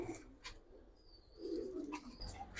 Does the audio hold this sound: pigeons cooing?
yes